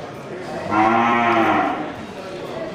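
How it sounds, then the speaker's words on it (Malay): A Bali or Aceh cow at a livestock market lets out one long, loud moo lasting about a second, set against a steady crowd murmur. "sapi Bali ya, serta sapi Aceh yang ada di sebelahnya"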